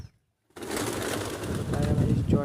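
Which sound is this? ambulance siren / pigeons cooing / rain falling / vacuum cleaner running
pigeons cooing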